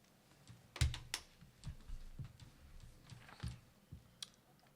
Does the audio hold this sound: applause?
no